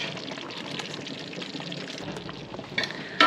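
Thick cranberry sauce simmering in a pot, a soft, steady bubbling and gentle popping close by, with a couple of sharper clinks near the end.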